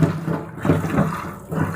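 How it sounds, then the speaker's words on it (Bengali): Water splashes and runs over cauliflower being washed, a close, fairly loud gush that swells and eases in uneven pulses, with no talking. "এখানে ফুলকপি নিয়েছি ধোয়ার জন্য"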